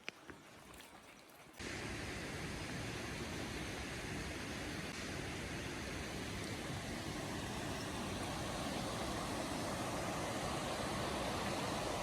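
A small mountain stream at Panch Pokhari in Sindhupalchowk during the monsoon rushes in a steady, loud broadband roar that starts abruptly after a quiet second and continues unbroken.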